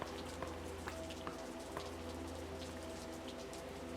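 Rain in the video game Labyrinth of the Demon King patters steadily at a soft, even level, a constant fine hiss with faint scattered drops and no voices.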